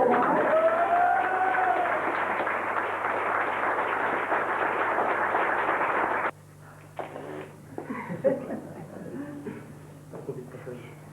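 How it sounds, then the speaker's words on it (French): Dense, steady applause from wedding guests fills the first six seconds, then stops abruptly, leaving scattered voices talking and murmuring. "On peut applaudir."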